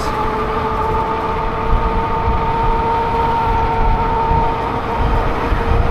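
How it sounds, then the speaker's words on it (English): A new rear tire roars steadily on the road while riding, a loud, continuous rumble with a sustained whining tone running through it. "this tire is loud, man."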